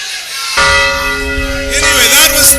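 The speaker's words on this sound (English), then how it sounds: "Your man, ring the bell." A church bell rings out loud and close after a brief quiet start, its sustained tone lingering and layered with a second strike near the end.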